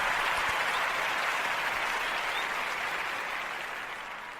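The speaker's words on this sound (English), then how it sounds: "just want to give him a little round of applause for that" Steady applause from a crowd, dense and sustained, fading slightly toward the end.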